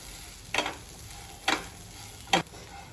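Whole spices with a large cardamom pod frying in a pan are stirred three times, each a short scraping swish over a faint steady sizzle, close and with no talk.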